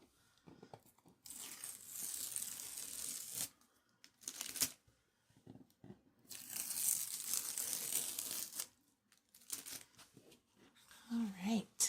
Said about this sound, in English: let me take my tape off